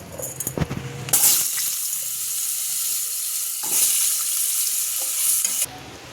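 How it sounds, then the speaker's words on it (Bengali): Potatoes fry in oil left over from frying fish, a dense continuous sizzle that follows a few clattering stirring knocks and swells again partway through. "এবারে মাছ ভাজার তেলেই আমি আলুটা ভেজে নেব।"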